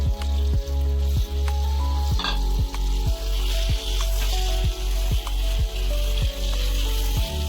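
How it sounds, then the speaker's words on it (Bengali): Prawns for biryani fry in a hot pan with a loud, close sizzle, over a regular pulse of low thuds repeating roughly every half second. "এখন আমি চিংড়ি মাছ দিয়ে দেবো, দিয়ে দিচ্ছি চিংড়ি মাছ"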